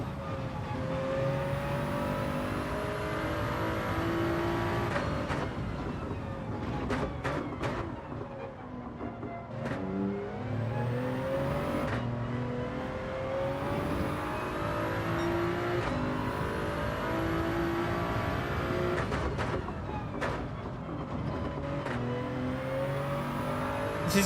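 Toyota Supra race car in Gran Turismo 7 revving and accelerating through repeated gear shifts, its engine note rising and dropping steadily over a long stretch, loud and close.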